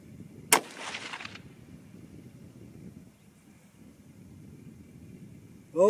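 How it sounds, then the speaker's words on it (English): A single sharp rifle shot from a .308 Winchester firing a 150-grain Nosler load over StaBALL Match powder, loud and close, with a brief echo that fades into quiet outdoor background noise. "There goes the 150s, the Nosler, the StaBALL Match."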